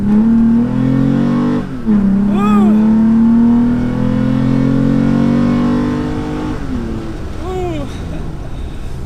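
A third-generation Toyota Tacoma TRD Offroad pickup truck engine revs hard, its exhaust and intake rising in pitch through two climbs above 4,000 RPM, loud and close, with a brief dip between pulls.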